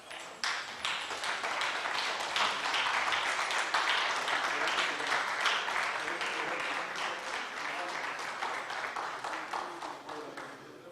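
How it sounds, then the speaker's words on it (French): A seated audience at a speech and trophy ceremony rises for a standing ovation, with dense, sustained applause that carries on steadily and tapers slightly at the end. "Je les invite à se tenir debout pour un standing ovation à leur endroit."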